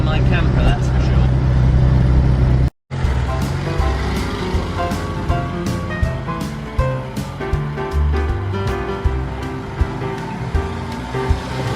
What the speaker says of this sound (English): it is a noisy little car